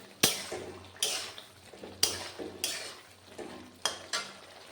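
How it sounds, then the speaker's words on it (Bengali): Papad frying in hot oil in a home kitchen for a vegetarian lunch thali, heard as several sharp bursts of crackling sizzle at irregular intervals, each fading back to a low background hum, close and fairly loud. "দেখুন আমি পাঁপড় ভেজে নিচ্ছি।"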